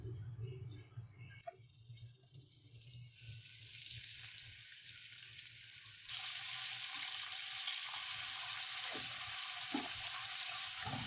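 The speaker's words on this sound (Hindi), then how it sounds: "ऑयल गर्म हो जाए तो इसमें मैं टमाटर ऐड कर दूंगी।" Tomatoes hit hot oil in a pan for mutton karahi: after a few quiet seconds of faint kitchen clatter, a loud hissing sizzle bursts in and holds steadily close by, with a couple of light knocks.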